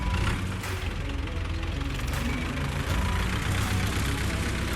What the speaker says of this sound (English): The sound of that tractor means what, Eddie?